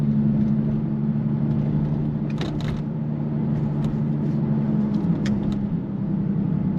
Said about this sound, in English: Here comes a speed bump and a few undulations